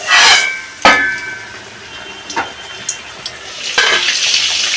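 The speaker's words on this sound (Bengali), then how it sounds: "আমি এই মশলাগুলো দিয়ে আমি একটুখানি কষিয়ে নেব, একটু ঢাকা দিয়ে দিয়ে কষাবো" Spices with coriander powder sautéing in a pan for a rohu fish curry with raw mango, heard as intermittent bursts of sizzling and stirring between quieter stretches, with no talking.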